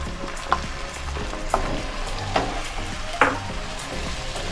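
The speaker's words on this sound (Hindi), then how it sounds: "तो देखिए, ये हमारा प्याज ब्राउन होने लगा है।" Onions sizzle steadily in a pan with garlic and ginger, and a spoon scrapes and clinks through them in several short strokes, close and fairly quiet with no voices.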